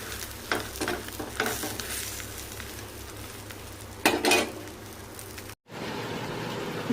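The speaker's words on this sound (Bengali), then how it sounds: "হয়ে গেছে ডিম ভাজা" Egg with green chili frying in a pan, a steady crackling sizzle with a few louder scraping stir bursts and a brief dropout near the end.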